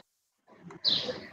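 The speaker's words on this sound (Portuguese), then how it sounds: "Tem um sabiá." A short, faint rufous-bellied thrush call rings out from a distance, a brief warble rising against a quiet background.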